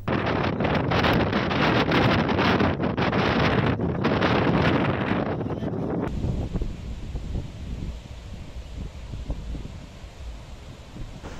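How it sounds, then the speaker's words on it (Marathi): Loud rushing wind and heavy downpour on the coast at Malvan roar continuously, very dense at first, then easing into a lower, steadier blustery rumble with gusts. "सकाळपासून जोरदार वाऱ्यासह पावसाच्या दमदार सरी कोसळतायत"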